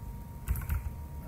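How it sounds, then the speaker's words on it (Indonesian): A command being typed on a computer keyboard at a Linux terminal, heard as a few soft, quick key clicks close by over a steady low hum, with no talking. "Coba ketik sudo su."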